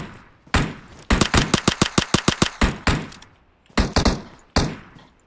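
An Uzi submachine gun fires in PUBG Mobile, first a single shot, then a rapid burst of about a dozen rounds, followed by scattered shots, loud and punchy.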